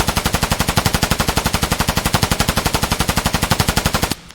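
A single long burst of rapid automatic gunfire from an Escape from Tarkov weapon, loud and evenly paced for about four seconds before stopping abruptly.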